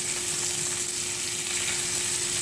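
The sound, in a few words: scallops frying in a pan for white wine butter sauce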